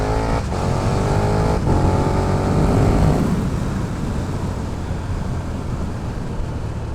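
A 2020 KTM 1290 Super Duke R pulls hard under acceleration with a loud, continuous engine roar that shifts pitch as the quick shifter snaps through gear changes, heard close with no talking.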